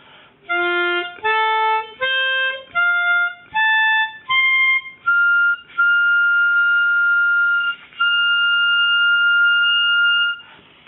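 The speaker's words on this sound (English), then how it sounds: "practice going up the harmonica in octaves" Harmonica blow notes climb step by step in octaves, each clear tone held briefly, ending with two longer sustained high notes.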